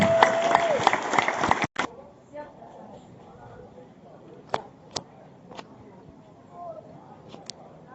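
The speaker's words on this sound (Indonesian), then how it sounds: "beri tepuk tangannya dulu" Audience applause at an anti-bullying declaration event in South Sulawesi, a short burst of clapping at the start that cuts off abruptly, followed by quieter room noise with a few scattered claps and sounds.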